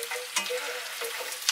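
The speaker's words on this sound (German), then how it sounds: "Und jetzt lassen wir das noch ein bisschen brutzeln, dass die Zwiebeln, der Knoblauch ein bisschen garen können." Onions and garlic sizzle steadily in a frying pan, a close, continuous crackle with brief louder pops and stirring scrapes.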